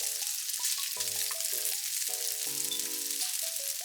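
Egg frying in a frying pan, a steady loud sizzle running throughout under light background music.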